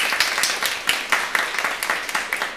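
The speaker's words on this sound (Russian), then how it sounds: "Ваши аплодисменты." A concert audience at a jazz guitar performance claps for a guitarist. The applause is moderately loud, with distinct, fairly rhythmic claps throughout.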